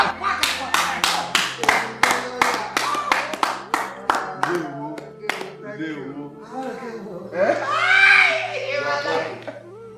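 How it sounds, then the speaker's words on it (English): A group claps in a quick, steady run of sharp hand claps, followed by raised excited voices and a shout. "We are clapping."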